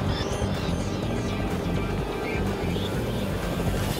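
Helicopter flying in the Fortnite video game, heard as a steady, loud, dense rotor-and-engine drone that holds throughout, with game sounds layered on top.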